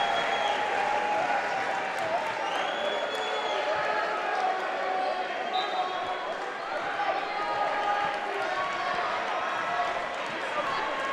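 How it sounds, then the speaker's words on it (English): The Swarthmore home crowd cheers and applauds loudly at a Centennial Conference men's basketball tournament game against Muhlenberg, a sustained roar with sneaker squeaks and an announcer talking over it. "look at this Swarthmore crowd rock"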